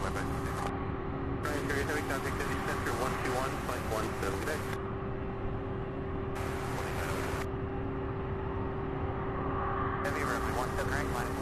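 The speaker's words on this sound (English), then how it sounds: "That MD-11 making its way." An MD-11 taxis at Louisville International Airport with a steady engine drone and a constant tonal hum. Intermittent bursts of hiss rise and fall on top, and a voice talks over it.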